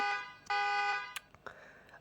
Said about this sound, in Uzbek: Bu signal chalyapti shu mashina